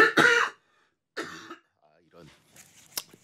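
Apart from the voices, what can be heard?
coughing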